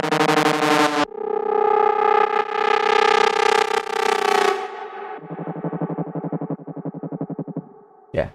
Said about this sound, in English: the reverb automation builds up towards the end of each note.